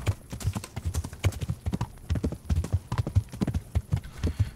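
Steady rhythmic clip-clop of horse hooves at a trot in Kingdom Come: Deliverance, close and even, with no talking.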